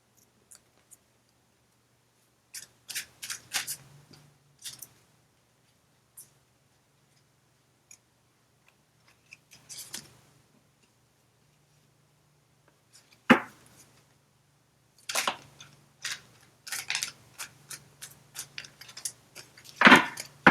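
Tarot cards are shuffled and handled in scattered bursts of quick papery riffles and flicks, with quiet gaps between them and a denser flurry toward the end.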